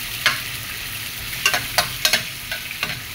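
Sautéed onion and garlic sizzle softly in a pan while a spatula scrapes and stirs in a string of sharp, irregular strokes, close up and with no talking.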